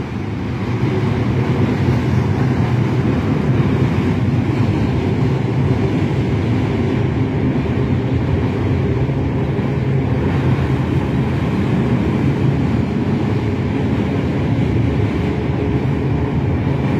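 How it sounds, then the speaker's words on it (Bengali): A train crosses the Kolaghat bridge over the Rupnarayan river, a loud, continuous rumble and rattle of wheels and wagons heard close from below, unbroken throughout. "কোলাঘাট ব্রিজের ওপর দিয়ে চলন্ত ট্রেন"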